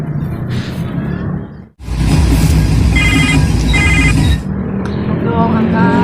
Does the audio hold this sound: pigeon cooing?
no